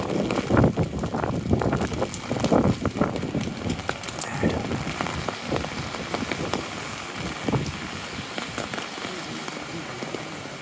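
Strong gusting wind buffets the microphone during heavy rain on a downtown street, with loud irregular roaring blasts easing somewhat toward the end, and no clear speech.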